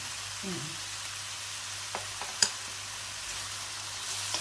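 Sotanghon guisado, glass noodles seasoned with black pepper and Magic Sarap, sizzles softly in a pan as a spatula stirs it, with a few light scrapes and clicks over a steady low hiss.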